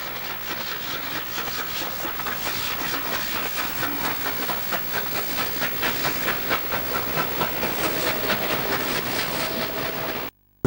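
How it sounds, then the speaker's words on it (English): Two steam locomotives, 3646 and 3803, haul a southbound coal train over Hawk Mount in 1967. Hissing steam and rhythmic exhaust beats swell steadily with clanking wagons, then cut off abruptly near the end. "3646 and 3803 work a coal train over Hawk Mount, heading south in November 1967."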